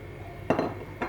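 A lid clanks onto a cooking pot of molokhia with rabbit, two short metallic knocks close by in a quiet kitchen.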